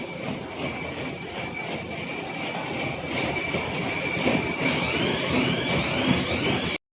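Oil mill machine processing groundnuts, a loud, continuous mechanical roar and grinding clatter with a steady high whine running through it, close by and unbroken for the whole stretch.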